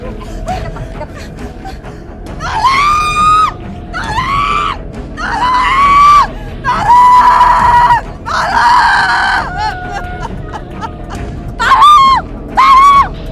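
A woman screams loudly and repeatedly in a drama scene, long piercing cries in several bursts separated by short pauses, with some faint background voices between them.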